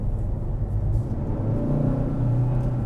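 A 2022 Kia K5 GT sedan with quad exhaust tips accelerating hard from inside the cabin, a steady deep engine rumble building over a few seconds, close and continuous with no talk.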